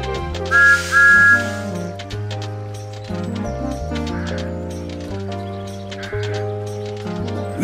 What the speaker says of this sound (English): This is Thomas's whistle.